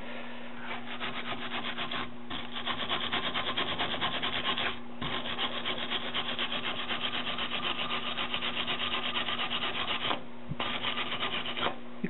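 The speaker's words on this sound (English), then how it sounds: "I don't know what I did with my wire brush here." A wire brush scrubs slag and spatter off a fresh flux-core or MIG weld in steady, rapid strokes. The brushing is close and continuous, with a few short pauses, and no one speaks.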